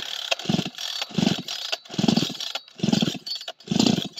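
A chainsaw with a dull chain and a sticky throttle catch is pulled again and again, giving five strong bursts of engine noise, each cutting out, close and loud with no talk.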